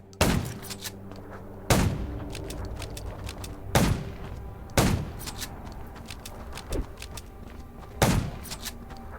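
Repeated gunshots from the zombie survival game Undawn, five or six sharp, loud reports spaced irregularly over a steady background hum, with no talk.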